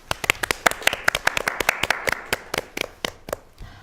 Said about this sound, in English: we would like to give our live studio audience a hand clap